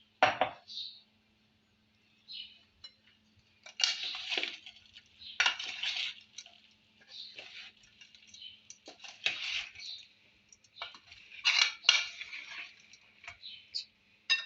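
A big spoon mixing garlic pickle in a pot, a run of irregular clinks and scrapes of metal against the vessel in short bursts separated by quiet gaps, close and fairly crisp.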